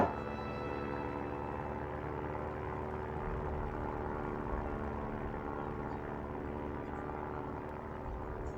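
Steady droning of an airplane's propeller engine during a Stranded Deep cutscene, a constant, even hum of moderate loudness that holds throughout without talk.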